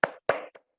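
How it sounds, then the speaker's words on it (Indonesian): A class of schoolchildren doing a rhythmic group clap in a classroom: two loud bursts of clapping, then a short, fainter third burst, with no talking. "marilah kita melakukan tepuk semangat dulu ya anak-anak"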